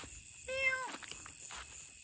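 A cat gives a single clear meow, a short rising-falling call near at hand against a faint outdoor background during a frog-hunting and snakehead fishing outing.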